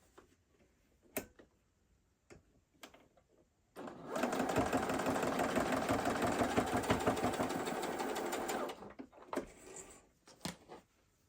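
A sewing machine stitches through thick apron fabric, running in one steady, close buzzing burst of about five seconds, with quiet handling sounds before and after.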